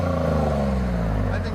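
Up close, a 2015 Ford F-150 3.5L EcoBoost V6 with a Flowmaster Outlaw exhaust is revved, its loud, throaty exhaust note rising briefly with strong harmonic layers.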